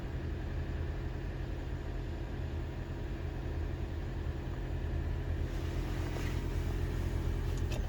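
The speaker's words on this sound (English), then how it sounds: "Hear the engine part of the system working." Petrol engine of a Toyota RAV4 2.5 VVT-i hybrid with CVT running, a steady low hum and rumble from inside the car, unchanging throughout, with a few faint clicks toward the end.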